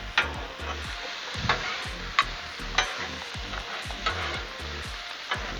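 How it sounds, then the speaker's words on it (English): Vegetables and onions sizzling steadily on a Blackstone griddle while a spatula scrapes and taps against the flat-top every second or so, close and fairly quiet, with no talking. "Kind of getting them stirred up good."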